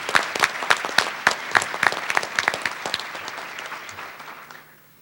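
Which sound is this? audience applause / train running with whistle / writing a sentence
audience applause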